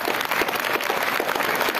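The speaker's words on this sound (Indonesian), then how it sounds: "Tepuk tangan buat SMK." Applause from a seminar audience, many hands clapping steadily and evenly, a dense continuous patter filling the room at fairly loud level without voices over it.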